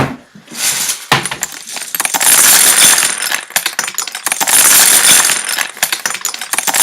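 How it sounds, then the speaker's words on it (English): Loose computer keyboard keys are handled and shaken, giving loud, dense plastic clattering and rattling in bursts with brief pauses between them. "these are computer board keys."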